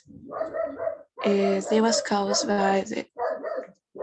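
A dog barks repeatedly nearby in short bursts, overlapping someone speaking.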